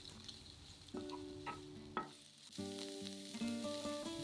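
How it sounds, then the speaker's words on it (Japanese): Chopped Nozawana pickles, rinsed and squeezed dry, stir-fry in oil in a frying pan over medium heat. A faint sizzle runs under a few scraping strokes of the spatula, heard close with no talking. "野沢菜漬けを加えて炒めます。"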